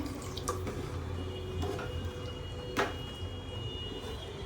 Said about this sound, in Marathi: अर्धा 1 ग्लास पाणी टाकूया